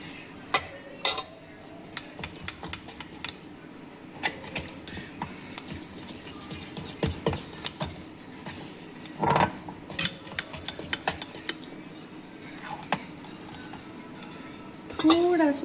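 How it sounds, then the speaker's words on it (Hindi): A spoon scrapes and clinks against a bowl while a binding mixture is stirred thoroughly, irregular taps and scrapes close by under occasional talk. "we will mix it very thoroughly."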